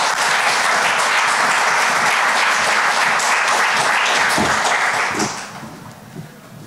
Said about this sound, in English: to give her a big round of applause.